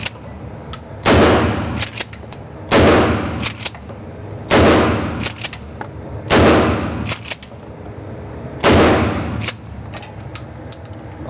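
A Mossberg Shockwave shotgun fires five loud, close blasts spaced roughly two seconds apart, each with a sharp crack and a long ringing decay.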